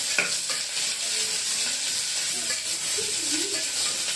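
Chopped chillies and two onions sauté steadily in a hot pan for upma made with seeraga samba rice, a constant close sizzle with occasional stirring scrapes and no talk.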